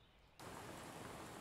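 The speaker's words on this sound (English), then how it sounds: "I love the sound of rain." Steady rain pours down as a dense, even hiss after a sudden start, then holds at a constant level with no voices over it.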